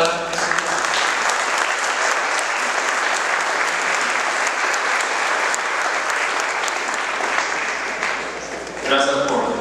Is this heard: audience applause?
yes